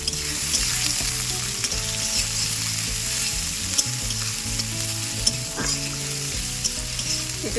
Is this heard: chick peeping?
no